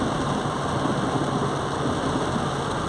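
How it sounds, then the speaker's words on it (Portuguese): Heavy rain pouring down a narrow alley street in Lapão, Bahia, a dense, steady broadband roar with no breaks, loud and continuous throughout. "chuvada muito forte aqui, agora tá passando, descendo aqui por este beco"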